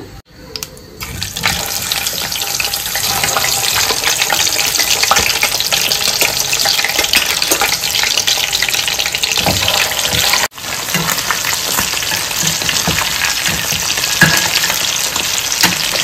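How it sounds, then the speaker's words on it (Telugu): Cooked mutton pieces deep frying in hot oil, a loud steady crackling sizzle that runs nearly unbroken, with one brief dip partway through. "ఇది ఇప్పుడు డీప్ ఫ్రై చేసుకోవాలి మనం"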